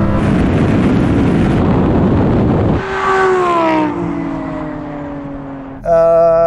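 A Lamborghini, Huracan STO or Aventador SVJ, launches hard in a drag race with wheel spin: a loud, close engine roar that climbs in pitch through the gears, then a fresh surge of revs near the end.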